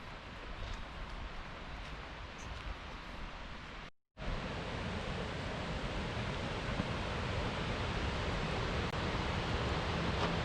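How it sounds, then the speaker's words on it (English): Broadband rushing roar of a waterfall at Tallulah Gorge heard from a hiking trail overlook, steady and constant throughout apart from one brief dropout. "We are approaching a beautiful waterfall."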